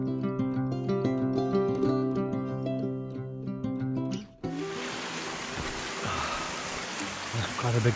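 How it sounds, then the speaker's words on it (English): A small moorland river rushes past stepping stones, a broad, steady, close flowing wash that comes in suddenly after a stretch of tonal sound, with no voices over it. "Just a little river crossing there over the stepping stones"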